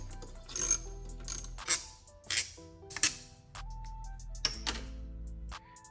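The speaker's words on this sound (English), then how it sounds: "Now you want to take a T30 and undo these 3 bolts that connect the top portion of the charge pipe to the throttle body." Ratchet wrench with a T30 bit undoing the charge pipe bolts on a BMW 340i GT B58 engine, several bursts of rapid clicking ratchet strokes separated by short pauses, close and clear with no talking.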